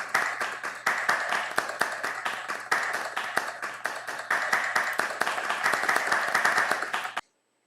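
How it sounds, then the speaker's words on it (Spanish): Audience applause at an art event presentation, a dense, steady burst of clapping from a crowd lasting about seven seconds before cutting off abruptly. "Un fuerte aplauso, por favor."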